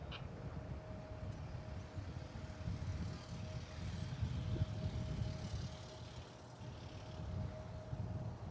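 A plane departing DFW Airport drones faintly in the distance, a steady low rumble with a thin sustained tone above it, fairly quiet throughout.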